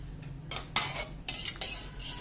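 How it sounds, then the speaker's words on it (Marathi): A lid is set on a pot of bitter gourd curry, giving a few sharp metallic clinks and clatters in quick succession, close and fairly loud with no talk. "झाकण ठेवते शिजण्यासाठी."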